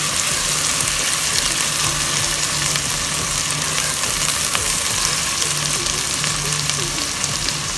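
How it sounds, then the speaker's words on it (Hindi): Garlic ginger paste frying with onions in a pan for chana pulao, a loud, continuous dense hiss of sizzling oil that stays even throughout. "अब हम इसमें ऐड करेंगे 1 टेबल स्पून लहसुन अदरक का पेस्ट। इसको हम कुछ देर अच्छे से भून लेंगे।"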